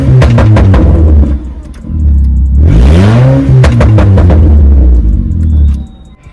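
A Chevrolet Gentra with a button-controlled exhaust flap revs hard: several quick blips, then a long rising and falling rev, then more sharp throttle stabs, loud and close over a deep idle rumble.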